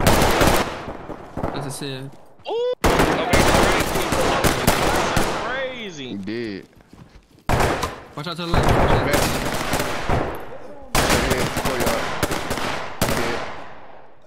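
Rapid bursts of MX9 submachine gun fire in the tactical shooter Ready or Not, loud and close, broken by short pauses, with players talking over the shooting.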